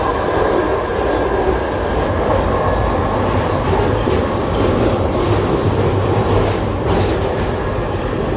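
A London Underground Jubilee line train in motion, heard from inside the carriage as a loud, steady rumble with rhythmic wheel clatter running throughout.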